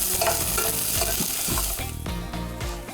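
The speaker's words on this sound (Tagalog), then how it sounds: "Igigisa muna ang bawang at sibuyas." Garlic and onion sautéing in a pan for a Filipino beef dish, a loud close sizzle with rhythmic stirring scrapes of a utensil against the pan.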